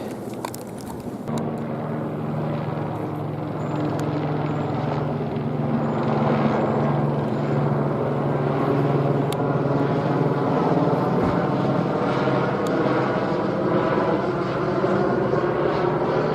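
A propeller airplane circling overhead drones continuously, its engine hum slowly shifting in pitch as it passes and circles, steady and fairly loud.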